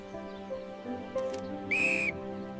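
One short, shrill blast from a whistle, clear and fairly close, sounding over a soft musical background.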